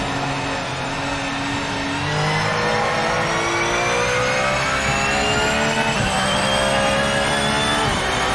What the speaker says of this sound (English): My favorite thing to do in Gran Turismo 7 was build ridiculously overpowered street cars and take them down nords.